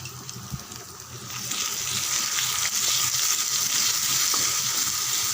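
Cluster bean thokku paste with turmeric sautés in a pan, a steady close sizzle and frying hiss that swells after the first second and holds loud to the end, with a few faint stirring scrapes.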